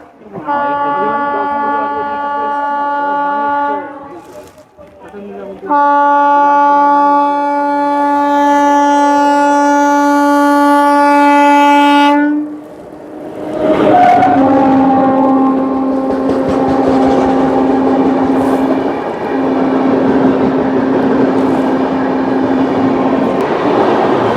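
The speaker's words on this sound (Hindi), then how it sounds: "न्यू दिल्ली बिलासपुर राजधानी छत्तीसगढ़ राजधानी एक्सप्रेस आ रही है भाई सामने से" A New Delhi–Bilaspur Rajdhani Express approaches and passes on the Durg–Gondia line near Darekasa Ghat, its loud, sustained multi-tone horn blaring in long blasts before giving way to the rushing roar and rumble of the passing train.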